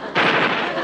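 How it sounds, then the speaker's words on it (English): Real bullets fired in a wartime island setting, a sudden loud burst of gunfire that erupts and sustains briefly at close range. "Hey, they are real bullets."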